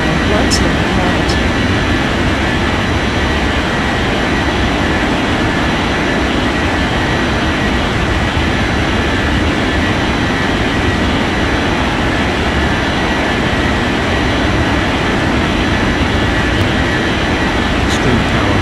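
An airliner takes off in an air traffic control game, a loud steady broadband jet roar with low rumble filling the whole stretch, with a few faint clicks.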